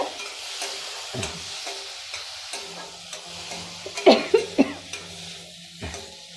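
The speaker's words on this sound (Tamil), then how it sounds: "இதை நெய்யில் நல்லா கொஞ்சம் நேரம் வதக்கிக்கோங்க." Grated chayote sautés in ghee with a continuous frying sizzle while a spoon stirs and scrapes the pan, giving several sharp clinks and knocks, loudest in a quick cluster toward the middle.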